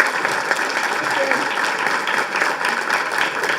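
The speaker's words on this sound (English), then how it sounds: "So let's give an applause for Kathy Bowles." A keynote audience at a nurse innovation summit gives steady applause, a dense wash of many hands clapping throughout the clip.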